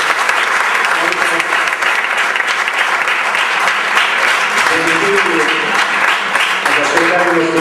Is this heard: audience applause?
yes